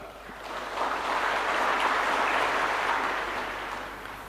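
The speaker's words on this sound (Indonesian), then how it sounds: "Jangan terlalu cepat tepuk tangan." Audience applause at a live presidential speech on education, building softly and rising to a broad, even wash of clapping before easing off, heard at moderate distance with no talk.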